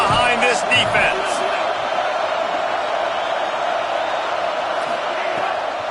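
A large football stadium crowd roars steadily behind the defense on a big third down in a Florida versus Michigan game, a dense continuous wall of cheering with a few sharper shouts near the start.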